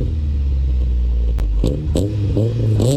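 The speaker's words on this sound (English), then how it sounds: "now let's start up the car and hear the exhaust" A car engine cranks and catches, then settles into a deep, steady exhaust rumble close by, with a newly installed catalytic converter.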